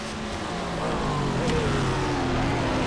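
A Ford GT3 race car engine roars steadily in iRacing at Daytona Road Course, a loud sustained drone whose pitch climbs and shifts as it revs, filling the whole stretch without pause.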